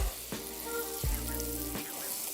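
Flour cooking in butter in a skillet, a continuous close sizzle broken by a few brief scraping stirs, with no one speaking.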